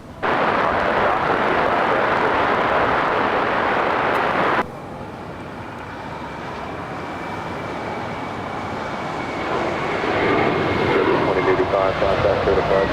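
An airliner taking off at Los Angeles International Airport, a loud broadband engine roar that cuts to a quieter sustained rumble and then slowly builds again, with voices talking over it.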